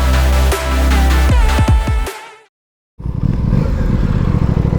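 A 2021 Aprilia Tuono 660 motorcycle engine revs loudly up close in rising, rasping bursts, drops away to a moment of silence, then comes back as a steady, throbbing idle.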